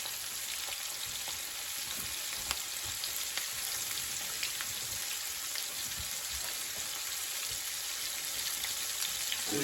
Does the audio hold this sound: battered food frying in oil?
yes